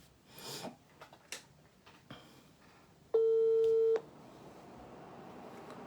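A telephone ring tone sounds once while a call is being returned, a steady tone lasting about a second, loud and alone after some faint rustling and breathing.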